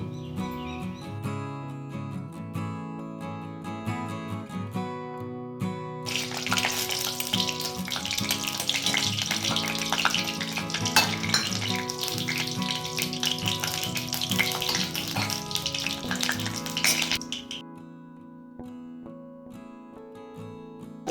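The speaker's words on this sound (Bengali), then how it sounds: "একটু রসুন শুকনো লঙ্কা ভাজবো।" Garlic and dried red chillies hit hot oil in a kadai with a sudden loud sizzle. It holds strongly for about ten seconds, then drops away, with a constant tonal hum underneath.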